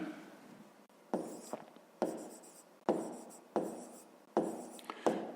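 Pen or pencil writing out a fifth-grade math solution on paper, a quiet close scratching that comes in five or six short bursts with pauses between strokes.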